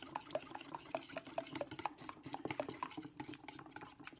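A vegan lemon curd mixture is whisked by hand in a bowl, quick rhythmic ticking strokes of the whisk against the sides, fairly soft and close, with no talking.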